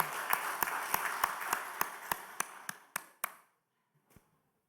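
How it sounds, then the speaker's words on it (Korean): A Korean church congregation claps in steady rhythm during a Sunday morning service, about ten evenly spaced, sharp claps that stop suddenly, followed by one faint clap after a short silence. "박수하면서 학생들을 초대하겠습니다"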